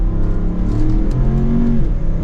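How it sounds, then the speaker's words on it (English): A 2024 Range Rover P530 SE in sport mode accelerates hard, its engine note loud, close and rising steadily in pitch for a couple of seconds, with no talking over it. "So let's put it into sport mode. We'll give it an acceleration."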